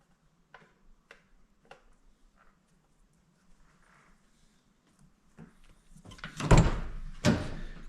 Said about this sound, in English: No, you want the door closed.